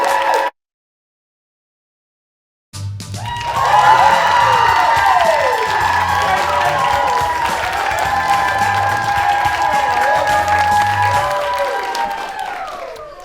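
After a brief silence, a studio crowd breaks into sustained applause and cheering, with whoops and music playing underneath, steady and loud until it fades.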